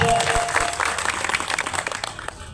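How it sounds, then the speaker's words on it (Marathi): An audience at a devotional kirtan gathering in Mudana applauds the singers and musicians, a short burst of dense clapping from a crowd that fades toward the end. "एकदा त्यांच्यासाठी जरा टाळ्या वाजवा"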